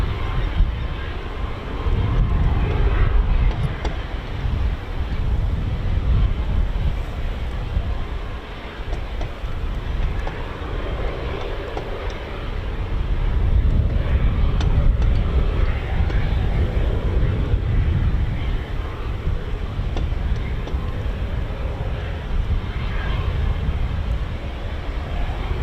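Military aircraft fly at RAF Mildenhall, home of the USAF 100th Air Refuelling Wing flying C-17, C-130J and MC-130 types. A loud, sustained low engine rumble swells and recedes across the scene, heard from a distance outdoors.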